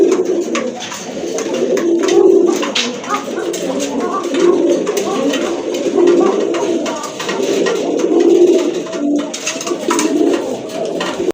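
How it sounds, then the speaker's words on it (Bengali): A pair of Gorra pigeons coo at close range, deep throaty rolling calls repeating in slow waves against faint background noise. "মাশাআল্লাহ, এক জোড়া গররা কবুতর"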